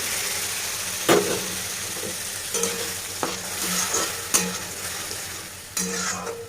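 Chana dal tipped into a pan of frying onions sets off a steady sizzle, with sharp scraping and stirring knocks recurring every second or so.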